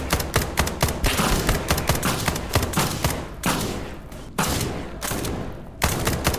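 Dense automatic gunfire rattles almost without pause in the SCP 5k video game, bursts stacking into a loud fusillade with only brief gaps between volleys.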